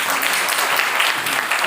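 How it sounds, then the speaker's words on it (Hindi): A seminar audience on yoga psychology bursts into loud, sustained applause, a thick wash of many hands clapping close by. "उसके लिए आप लोग एक बार जोरदार तालियां बजाइए"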